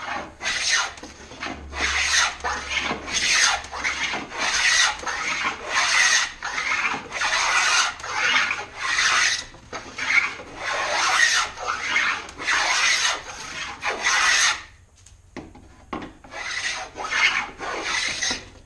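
A Stanley No. 78 rabbet plane set for a heavy cut shaves wood for a rustic box, giving repeated rasping strokes in a steady back-and-forth rhythm, close and loud, with one short pause near the end.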